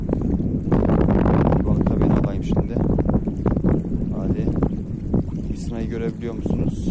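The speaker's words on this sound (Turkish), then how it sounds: "Rüzgar çıktı." Strong wind buffets the microphone while carp fishing from a boat, a continuous rough roar with gusts, and someone talks over it.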